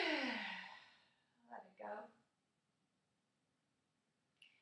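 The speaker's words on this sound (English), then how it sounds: "take a big breath in" A single deep breath drawn in and let out slowly, close and soft with airy hiss, during a foot and ankle warm-up, followed by near silence and a faint click.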